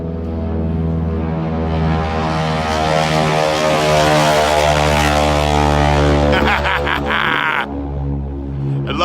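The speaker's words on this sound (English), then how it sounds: "That is the tips of the propellers Going supersonic." Stearman biplanes flying overhead at a fly-in, a loud, rich droning engine roar with a raspy buzz from the propeller tips, swelling and shifting pitch as the planes pass close.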